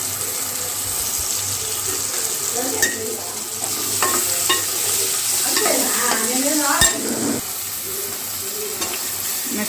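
Ingredients for dried fish curry frying in a pan, a steady close sizzle with a spatula scraping and tapping now and then, one sharper knock toward the middle.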